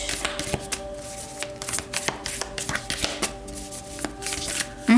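Tarot cards being shuffled by hand, a close papery riffling and flicking with soft taps, continuous through the moment under faint background music.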